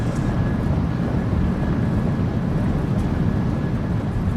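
Thrust reversers roaring on a PMDG 737-800 rollout in Microsoft Flight Simulator 2024, a steady loud broadband engine rumble that holds throughout without pause.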